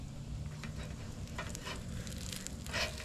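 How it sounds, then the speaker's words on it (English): Cactus pieces frying slowly in olive oil in a frying pan at a camp setting, a soft continuous sizzle with scattered pops and crackles, fairly quiet and steady with no talking. "I put the cactus bag in the frying pan, and I'm going to let it fry very slowly"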